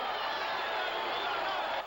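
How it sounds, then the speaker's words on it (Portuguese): A stadium crowd at a 1999 football match roars and applauds in a dense, continuous wash of distant noise that holds steady for a couple of seconds. "O estádio inteiro aplaudiu."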